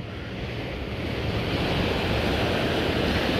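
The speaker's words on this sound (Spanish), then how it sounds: "Es así como el agua está golpeando todavía en esta zona" Sea waves crash steadily against an eroding shoreline where the sea has destroyed a house, a dense, continuous roar of surf building slightly louder over the few seconds, with wind noise on the microphone and no voices.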